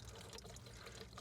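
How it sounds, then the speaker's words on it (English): Fuel and water drain from a loosened fuel filter into a container, a soft, steady trickle of liquid that is faint and continuous. "And now we're just leaking all of the fuel and water into the container so we can replace the fuel filter in here."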